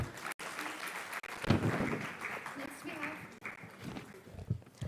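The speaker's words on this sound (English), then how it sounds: "A big round of applause for sir." Sustained clapping from a conference audience with a scattering of voices over it, moderately loud throughout.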